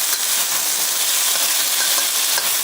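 Beef with ginger and garlic stir-fried in a wok: a loud, dense, continuous sizzle close up, with the clatter of stirring running throughout.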